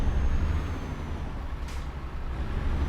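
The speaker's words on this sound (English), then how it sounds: "take off the parking brake" A truck's parking brake releases with a short, sharp hiss of air in Euro Truck Simulator 2, rising briefly over the steady low rumble of the idling engine.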